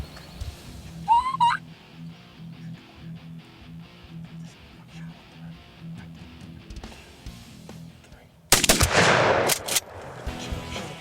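Wild turkeys gobble in a short burst amid low rhythmic rumbling during a turkey hunt in Indiana, then a sudden loud gunshot-like blast and crackling noise break in near the end.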